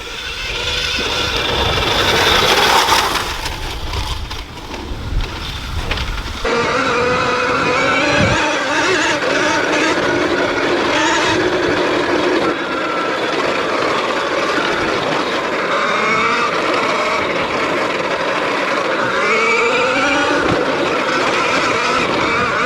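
A 2020 KTM Freeride electric dirt bike being ridden, giving a continuous whining electric motor hum with rising and falling pitch as speed changes, plus wind and terrain noise, close and fairly loud throughout.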